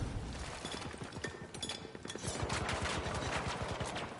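A heavy machine gun in the Battlefield 2042 video game fires in rapid sustained bursts, loud and close, with dense rattling reports blending into a continuous roar that intensifies toward the end.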